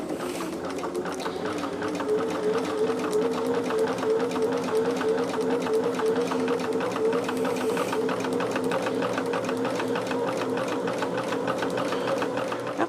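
A sewing machine stitches fabric pieces together with a steady, loud, rapid mechanical whirring and clatter that runs continuously and close, with no talk over it.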